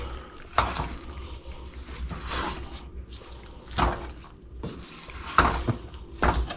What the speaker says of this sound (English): And so we are just going to continue mixing.